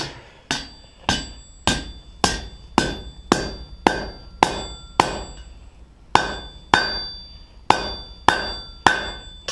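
A blacksmith hammers a handle over to bend it, striking metal in a steady rhythm of about sixteen sharp, ringing close blows with brief pauses between, no talking.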